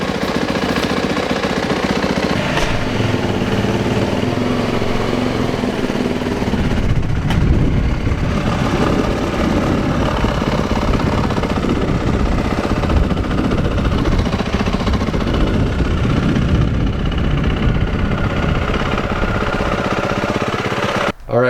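A 2018 Yamaha YZ450F dirt bike engine runs loud and close for about twenty seconds, a rough, throbbing idle with a few revs that stays constant before cutting off abruptly at the end.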